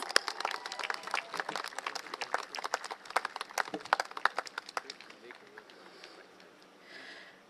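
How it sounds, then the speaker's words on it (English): A political rally crowd at an outdoor school venue bursts into applause, a dense burst of many hands clapping that tapers off over several seconds. "Can we give him another round of applause, please?"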